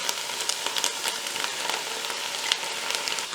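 Bacon frying in a pan with apples, onions and thyme, a steady close sizzle with soft crackles and scattered pops throughout, no voices.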